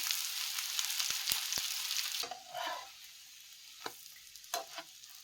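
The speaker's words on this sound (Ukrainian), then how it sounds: "І підсмажуємо з двох сторін до золотистої скориночки, до готовності, підсмажуємо з кожного боку перевертаємо на інший бік." A pumpkin potato pancake fries in oil in a pan, a loud steady sizzle that drops sharply partway through as it is turned, leaving softer crackles and a few clatters.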